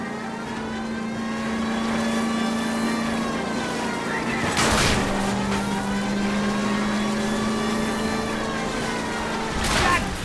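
A car in a video game chase accelerates, its engine drone holding steady and loud with rising harmonic whines. Two sharp bursts of impact noise break through it, and no speech is heard.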